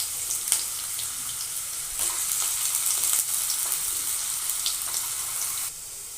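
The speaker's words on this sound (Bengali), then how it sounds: "কড়াইয়ের তেলটা গরম হয়ে গেলে এক এক করে সব সবজিগুলো ভেজে নেব" Potatoes frying in hot oil in a wok for a Bengali shukto, giving a steady bright sizzle with faint scattered crackles, close and continuous, easing slightly near the end.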